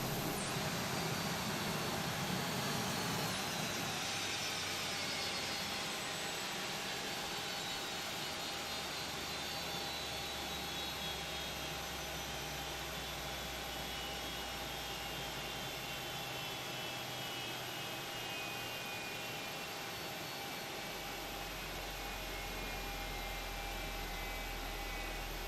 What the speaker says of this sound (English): Let's see what this sounds like when we shut the engines down.